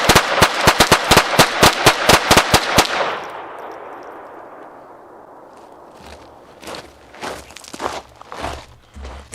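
A Hammerli 1911 pistol chambered in .22 LR fires a rapid string of about a dozen sharp, close shots at a range, followed by quieter rustling and faint thuds.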